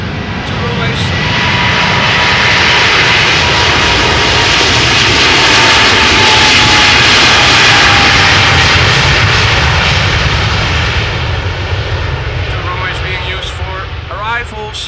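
A China Southern Cargo jet departs Schiphol's Polderbaan runway with a loud, sustained engine roar that swells and holds steady throughout, close and overpowering.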